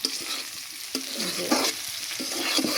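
Okra and tilapia frying together in a pan give a steady close sizzle, broken by short scraping and stirring knocks, with no talking.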